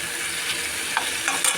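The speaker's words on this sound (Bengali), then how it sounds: "কেটে একটু মশলা দিয়ে এরকম ভাজা ভাজা করে নিচ্ছি।" Spiced chicken pieces fry in a pan for egg chicken fried rice, giving a brief steady sizzle close by with a couple of light stirring scrapes.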